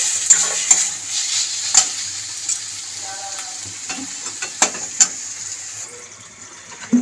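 Grated beetroot and sesame seeds are stir-fried in a pan for a vegetarian beet dish, giving a soft steady sizzle broken by several distinct scrapes and clacks of the spatula, heard close up without any speech.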